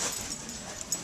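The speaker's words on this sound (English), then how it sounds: "It's like a little dachshund parade." Dachshunds whimpering with a thin, high whine and a short yip near the end, all in one brief, steady stretch.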